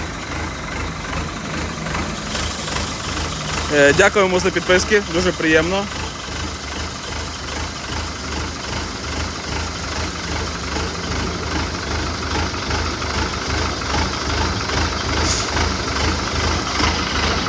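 A Yanmar tractor engine idles steadily nearby with a low, even chug throughout, while someone speaks over it.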